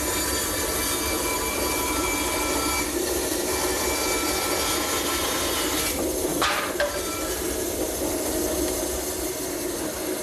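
A wooden blank is spun on a circle-cutting jig against a power saw, a loud, steady whine and rough cutting hiss running throughout, with a brief sharper clatter partway through.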